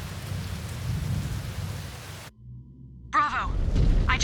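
Steady rain and rumbling thunder fill a MechWarrior 5: Clans battlefield, cutting off abruptly into a low hum before a voice speaks over the returning storm.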